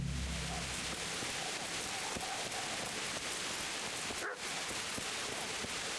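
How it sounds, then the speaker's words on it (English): Dog barking in the video game Kingdom Come Deliverance, heard within dense, steady game ambience that sounds like rain, fairly loud and continuous, with no speech. "Where's that barking?"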